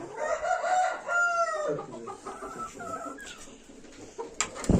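A rooster crows close by, its long strained call rising and falling, followed by softer clucking and rustling.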